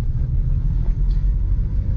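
A VW Polo Mk2 veteran car out on a test drive gives a steady low engine and road rumble from inside the cabin, continuous and moderately loud throughout.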